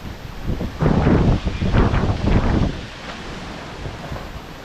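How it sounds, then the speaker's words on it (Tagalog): Strong wind gusting and buffeting the microphone, a loud roaring rush that swells in the middle and eases toward the end. "Lakas ng hangin."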